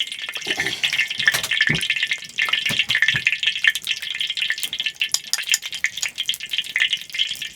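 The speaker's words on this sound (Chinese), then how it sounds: "大嫂还要炒鸡蛋了，现在马上搞锅里。" Eggs frying in a wok in a remote mountaintop home, a loud crackling sizzle with bursts of spattering and a few scraping stirs, heard alone.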